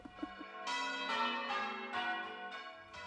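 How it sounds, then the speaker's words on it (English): Church bells ring out in a series of loud, clear, overlapping peals with long ringing tails, alone without talk, in Ipswich. "The unmistakable sound of church bells"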